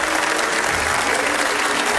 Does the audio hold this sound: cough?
no